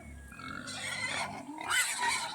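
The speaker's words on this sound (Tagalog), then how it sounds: "Dito pala sila nag-aalaga ng baboy." Pigs grunt and squeal on a pig farm near rice paddies, a steady dense murmur of many animals at moderate distance with no talk.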